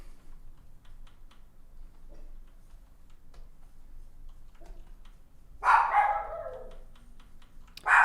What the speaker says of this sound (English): Sorry if you hear a lot of barking dog today.